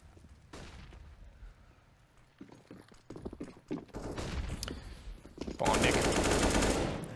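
Gunfire in a CS:GO pro match on the Inferno map, bursts of rapid shots, then a louder sustained volley near the end, under caster commentary.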